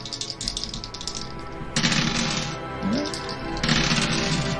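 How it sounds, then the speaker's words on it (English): Many dice clatter and rattle across a surface in two dense bursts, sharp clicking and tumbling that swells and fades, with a quiet background hum and no talk. "Sounds like a lot of dice."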